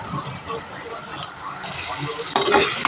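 Greens with coconut, green chili and cumin are stirred in a pan, with soft scraping and light sizzling under a woman's speech and a sharper clatter near the end.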